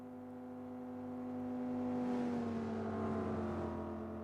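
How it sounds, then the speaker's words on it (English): Jaguar racing car's exhaust in the video game Gran Turismo 4, a steady engine drone with a strong tonal note that swells louder midway and holds, slowly shifting pitch, with no talk. "the exhaust makes the Jaguar sound much more powerful"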